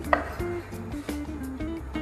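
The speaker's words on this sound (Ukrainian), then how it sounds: "Нарізаємо буквально декілька штук. Оливок та маслин." A knife chopping a few green and black olives on a cutting board in a kitchen, a handful of light, scattered taps at irregular intervals over low background hum, no voices.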